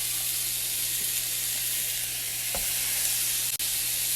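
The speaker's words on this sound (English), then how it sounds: "Sear them on both sides for a couple minutes on each side." Salisbury steak patties sear in a non-stick skillet with no added grease, a steady broadband sizzle holding evenly throughout with a couple of faint ticks and scrapes, close and alone without talk.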